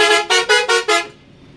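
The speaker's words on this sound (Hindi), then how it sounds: "सर थोड़ा हॉर्न बजा दीजिए।" A Scania bus horn blares five short, loud honks in quick, even succession, then cuts off to quiet.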